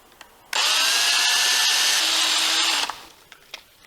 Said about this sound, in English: Never really drilled plastic pumpkins before.